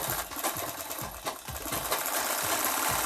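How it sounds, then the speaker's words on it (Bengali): Sewing machine stitching a prince cut blouse, its rapid mechanical chatter running continuously with small rhythmic thumps, fairly close and steady. "এখানে আমি এরকমভাবে ধরে নিলাম তারপরে ধরে নেওয়ার পর এরকমভাবে আমি সেলাই করে নেব পুরোটা"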